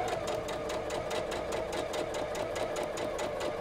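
A sewing machine stitches a quarter-inch seam through quilting fabric at the corner of a half-square triangle block, running in a steady, continuous mechanical whir close by with no talking.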